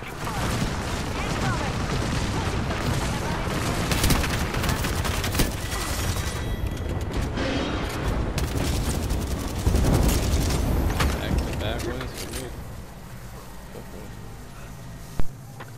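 Dense gunfire and explosions in the battle royale game Apex Legends, sustained and loud for most of the stretch with bursts and booms, thinning near the end before one sharp final shot.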